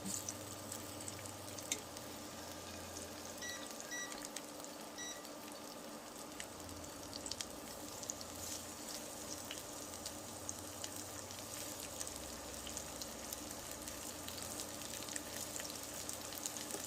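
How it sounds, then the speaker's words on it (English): Shrimp fry in a hot pan with a faint, steady sizzle and crackle throughout, a low hum beneath and scattered small ticks, heard from some distance with no talking. "we're going to start adding these shrimp"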